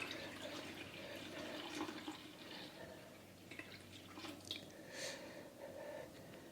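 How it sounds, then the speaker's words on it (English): Home-grown apple juice poured through a coffee filter, a quiet steady trickle of liquid with faint splashes and drips, no talking. "I'm going to pour the juice through that coffee filter."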